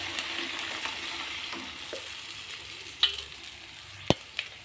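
Something browning in a kadai on the stove, giving a soft, steady sizzle with occasional sharp clicks and light clinks of a utensil, quiet and close with no talk.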